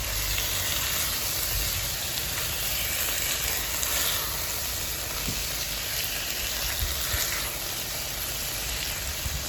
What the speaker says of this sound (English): Now let me just give it a stir.